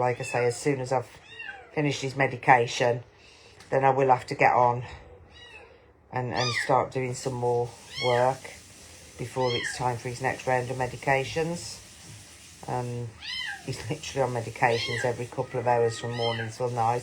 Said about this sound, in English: that kitten in the background meowing